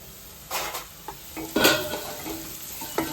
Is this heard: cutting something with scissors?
no